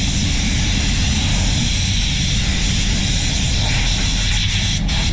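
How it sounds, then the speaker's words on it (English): A high-powered Prevost air blower drying clear coat on a Citroen C4 body panel, a steady loud broadband rush of air that holds constant throughout without talk. "Really good high powered air blower."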